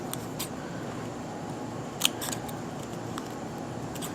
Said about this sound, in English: Cut off a little piece.